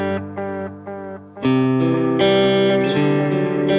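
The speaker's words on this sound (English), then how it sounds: "This is a dotted eighth delay with the analog setting with modulation." Electric guitar through a BOSS DD-500 pedal set to an analog dotted-eighth delay with modulation and reverb, playing sustained chords whose repeats smear and shimmer into a dense, continuous wash, loud and close with no talking.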